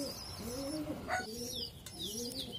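Pigeons coo steadily at close range in low, rolling phrases, with brief chirps and a little wing noise mixed in as a pigeon's wings are freed from tape.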